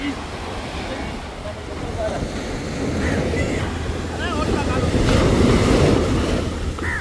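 Sea waves wash continuously on the beach as a boat is boarded, with steady surf and wind rumble throughout, growing slightly louder, and scattered voices talking over it.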